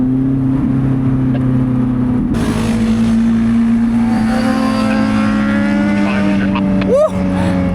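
Motorcycles passing on an Austrian mountain road, heard from inside a Lotus Elise; their rising engine notes build over the car's steady, loud engine drone, with a quick pitch sweep near the end.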